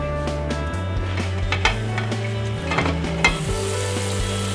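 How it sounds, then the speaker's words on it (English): Steady sizzling and bubbling of broth boiling in a pot on the stove, with a few light clinks of a utensil against metal, close and continuous. "it's already boiling"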